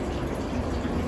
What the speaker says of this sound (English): during the transport of water through this system, each point acts as a breaking point for water, oxygenating it as it goes